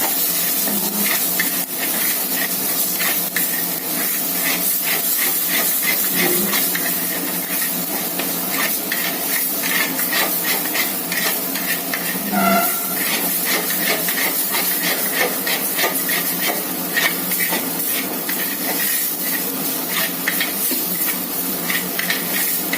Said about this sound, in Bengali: এবার মশলাটা ভালো করে কষে নিতে হবে।